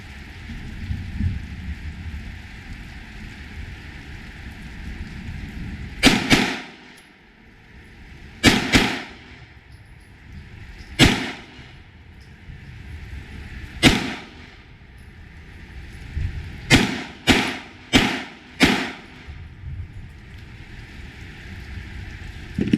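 Handgun shots at a short-distance outdoor range in the rain, eight sharp cracks spaced irregularly, with a quick cluster toward the end, over a steady hiss of rainfall.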